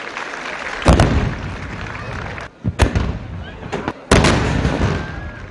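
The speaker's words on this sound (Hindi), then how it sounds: "इस्लामाबाद में 31 और सूबों में 21 तोपों की सलामी दी गई" Booming 21- and 31-gun cannon salutes for Pakistan Resolution Day ring out one after another at a distance, each a heavy thud with a rolling echo, over a noisy crowd.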